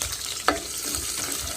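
Onion fries in plenty of vegetable oil for a noodle, sponge gourd and crab dish, a continuous low sizzle broken by one short scrape of stirring, quiet and free of talk.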